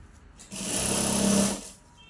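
A sewing machine stitches the finishing seam of a Kolhapuri nauvari saree in one quick, close burst of rapid mechanical whirring lasting about a second, followed by quiet.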